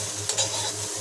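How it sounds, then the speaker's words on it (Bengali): Garlic, onion and green chili frying in a pan give a steady hiss of sizzling oil with a couple of brief stirring scrapes. "ভালো করে ভেজে নেব, রসুনটা আর পেঁয়াজটা।"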